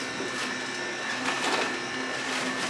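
A juicer grinds ginger and greens with a steady, dense mechanical whir, continuous and fairly close, with no talk over it.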